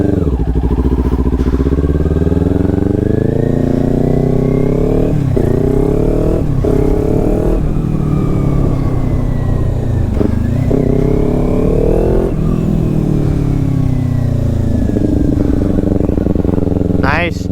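Kawasaki Ninja 400 motorcycle being ridden, its engine loud and close throughout, rising and falling through repeated revs and gear changes.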